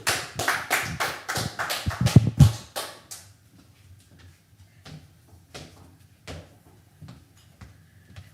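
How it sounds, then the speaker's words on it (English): A small audience claps for a poet at a poetry night. The applause is brief and close, a few hands clapping for about three seconds, then only sparse taps and shuffles. "So let's give a warm round of applause from our vast audience here for Bertha Rogers."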